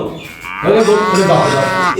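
A cow lows once in a long, loud, drawn-out moo that swells after a quiet start, heard close and alone without talk.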